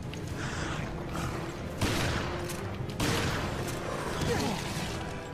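Shotgun blasts in Resident Evil: Revelations during a fight with a crustacean-like creature: two loud broadband booms a little over a second apart, each trailing off, over a noisy game background.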